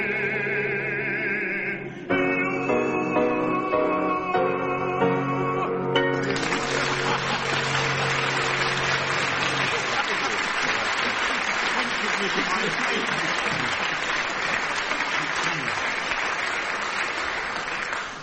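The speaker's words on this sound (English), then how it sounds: "How right you are to applaud yourselves." A studio audience bursts into loud, sustained applause as the last held musical notes of a song fade out beneath it. The clapping carries on strongly to the end.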